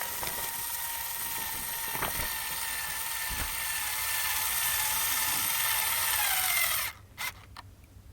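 A power drill running steadily to bore pilot holes in timber while a wooden gazebo is assembled, loud and close with a continuous whine, a few brief bumps, and the motor cutting off near the end.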